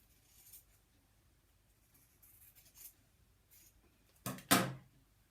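Fabric being cut off a pennant made from a 5-inch charm square for sewn bunting, with a couple of faint snips early on and two louder, close scissor cuts near the end, no talking.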